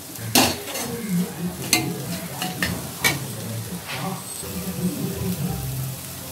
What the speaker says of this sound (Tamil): இப்போ நம்ம இந்த ஆனியனையும் கேபேஜையும் நல்லா கொஞ்சம் மிக்ஸ் பண்ணி விட்டுக்கலாம்.